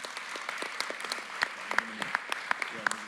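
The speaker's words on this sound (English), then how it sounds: "So can we get a round of applause for that" Applause from a conference audience, a steady patter of clapping hands throughout, moderately distant, with a few sharper claps standing out and some faint voices beneath.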